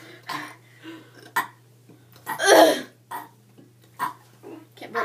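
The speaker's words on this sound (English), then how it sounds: "Can't burp no more." During a burping contest, a person lets out one loud, rough burp amid scattered short throat sounds and coughs, close to the microphone.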